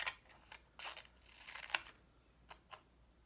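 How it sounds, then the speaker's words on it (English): Scissors snip through paper in a loose series of sharp, quiet cuts, some paired close together and others spaced apart, with no talking. "you can increase the width of the paper, so then it takes 2 snips to get through it"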